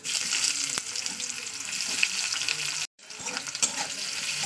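Bay leaf, cinnamon and dried chillies fry in hot oil for a tomato and coriander meat dish. A close, bright, crackling sizzle runs throughout, broken by a brief silent gap before it resumes.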